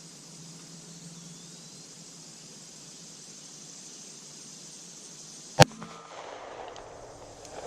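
A single sharp crack from a 2011 pistol fired at a target 200 yards away on an outdoor range, loud and sudden against quiet background hiss, followed by a faint echo.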